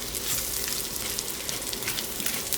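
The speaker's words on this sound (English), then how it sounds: "our goal with the bacon is to render the fat out so that we can fry our leeks in it" Bacon fries in a pan over moderate heat, rendering its fat with a steady, dense, close sizzle and crackle that continues without pause.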